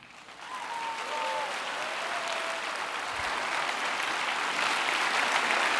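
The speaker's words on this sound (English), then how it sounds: "Yes, another round of applause." Sustained applause from a large festival audience after a film screening, a dense steady roar of clapping that swells and holds, with a few faint whistles riding over it.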